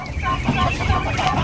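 Turkeys in a pen gobble and cluck continuously at close range, a dense flock chorus with no talk.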